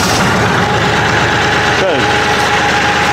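A Kioti CK series tractor engine idles with a steady, even diesel rumble and vibration close by, while a voice briefly says a word over it.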